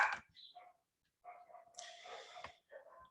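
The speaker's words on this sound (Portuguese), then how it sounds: "eu vou matar esse cachorro." Dog barking somewhere near a teacher giving an online biology lesson, a few short sharp barks and yips in bursts separated by brief silences.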